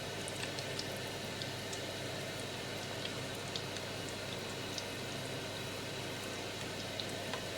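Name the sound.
chicken frying in bubbling oil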